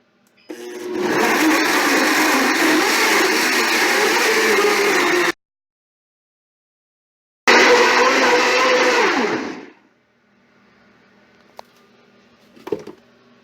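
Countertop blender whirring loudly through a raw food smoothie in two steady bursts with a short pause between, then quiet with a few faint clicks.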